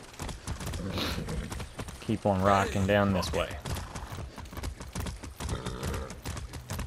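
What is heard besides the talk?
horse hooves while riding, from video game Far Cry 6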